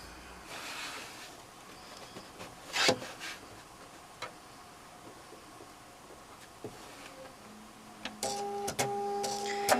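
A sewing machine runs in bursts along the edge of a fabric bucket hat, with short whirring stitches, a brief louder rustle of handled fabric, and a steadier hum building toward the end.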